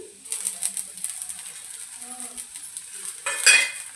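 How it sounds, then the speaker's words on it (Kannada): Coriander leaves and golden-brown onion fry in a pan with a soft sizzle, while a utensil clinks and scrapes against the metal at close range throughout. "ಕೊತ್ತಂಬರಿ ಸೊಪ್ಪು ಸ್ವಲ್ಪ ಬಾಡೋವರೆಗೂ ಈ ಥರ ಫ್ರೈ ಮಾಡ್ಕೊಳ್ಳಿ."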